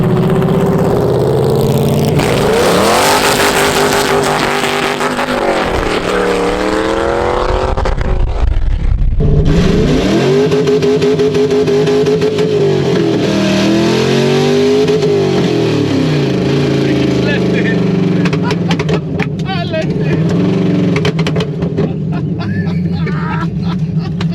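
A powerful LS V8 engine in an AC Cobra sports car revs and roars up and down repeatedly, loud and near, with people talking over it at times.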